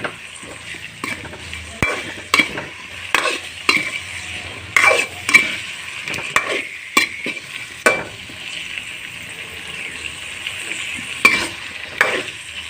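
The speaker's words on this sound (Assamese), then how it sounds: "ভালদৰে ভাজি ল'ম" Salted potatoes fry in a pan while a utensil stirs them, bringing a steady low sizzle broken by repeated scraping and clattering strokes at an irregular pace, with no voices.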